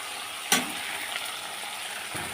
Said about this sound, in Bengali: ভালো করে আমি কষিয়ে নেবো মশলাটা